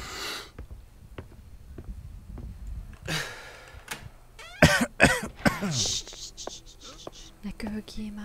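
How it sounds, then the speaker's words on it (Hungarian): Close, dry coughing bursts from a player during a Maid of Sker horror game session, several sharp hacks clustered in the middle amid breathy whispers and low background noise. "Ne köhögjél már!"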